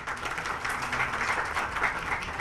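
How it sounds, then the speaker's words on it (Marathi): Audience applause at a stage program on diabetes awareness, a steady, moderately distant wash of clapping that holds an even level throughout without any voices. "पुन्हा एकदा आपण शिशिरजींसाठी एकदा टाळ्या वाजवू"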